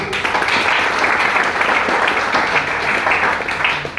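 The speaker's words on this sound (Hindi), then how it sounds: "मैं चाहूंगा उनके लिए जोरदार तालियां" Loud, sustained applause from an audience at a motivational speech event, a dense steady wash of clapping lasting the whole four seconds with no pauses.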